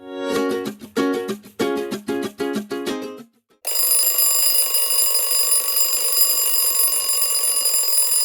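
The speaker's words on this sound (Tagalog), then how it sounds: "Walang tigil na kiriling ng lumang alarm clock sa loob ng kwarto ni Lira" An old mechanical alarm clock in a bedroom rings in rapid bursts of clanging, then shifts into a steady continuous ringing tone that carries on without pause.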